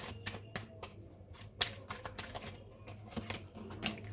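Tarot cards being shuffled and drawn by hand, a quick run of crisp, papery flicks and soft slaps, close up and fairly quiet over a faint background hum.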